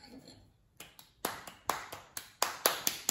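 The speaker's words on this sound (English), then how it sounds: "Clap 3 times." Sharp hand claps ring out in a loose series of about ten crisp, close strikes, starting sparse and speeding up into a quicker run, with quiet background murmur beneath.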